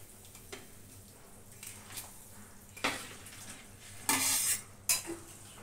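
Prawns go into a pot of simmering milk gravy: soft bubbling under a few clinks of a spoon against the pot, then a sharp sizzling splash and a second brief splash near the end.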